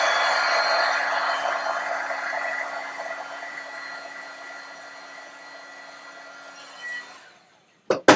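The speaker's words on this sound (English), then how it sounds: "I'm just going to take my heat gun and switch everything on first" A heat gun blows steadily close by over epoxy-coated cups spinning on a turner, a constant breathy roar that slowly fades before being switched off, followed by a couple of sharp clicks.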